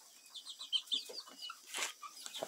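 Galinha Sertaneja Balão chickens cluck softly while chicks cheep in high, short peeps, scattered and close by in an otherwise quiet space.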